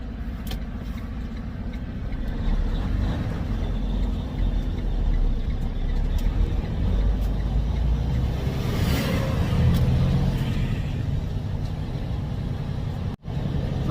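A semi truck running bobtail in 6th gear hums with a steady, loud low engine drone and road rumble that holds evenly throughout, ending in a brief dropout.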